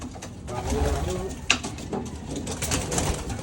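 Pigeons coo outdoors in soft repeated calls, with a sharp knock near the middle and someone talking nearby over them.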